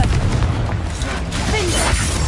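Blasting spell Confringo cast in the video game Hogwarts Legacy, a loud, dense booming burst that fills the whole clip amid continuous game sound and effects.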